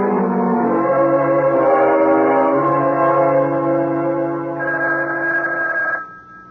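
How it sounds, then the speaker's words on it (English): A telephone bell rings loudly and steadily for several seconds in a 1975 radio mystery drama, a bright sustained ring that cuts off near the end. "It's the phone, Gil."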